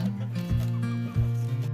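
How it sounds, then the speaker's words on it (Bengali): Desi chickens in a rooftop coop give a few close, low, throaty clucks in short bursts. "তাকগুলি বের করে এখানে আমি মুরগি রাখছি, 8টা মুরগি রাখছি"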